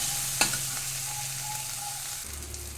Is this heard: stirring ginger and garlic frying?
yes